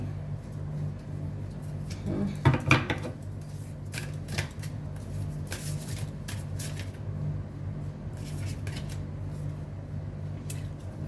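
Tarot cards being shuffled and drawn: soft papery riffles and slides at close range, with a brief louder flurry of card handling partway through over a steady low hum.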